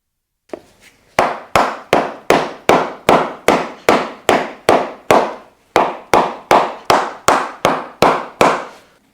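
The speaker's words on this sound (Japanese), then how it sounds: "このハンマーの尖ってる方も使ってしっかり叩きます" Close, sharp hammer taps on a leather shank laid over a bamboo shank of a shoe sole, about nineteen evenly spaced strikes in a steady rhythm with a brief pause midway.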